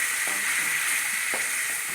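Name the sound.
ginger and garlic sautéing in a pan with liver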